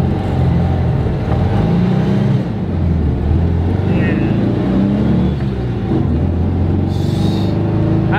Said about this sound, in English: Look at him rev matching already.